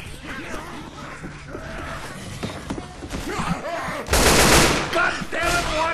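Gunfire in the video game Left 4 Dead: loud broadband bursts erupt late, one sustained volley then another shorter one, over busy game noise with voices faintly present.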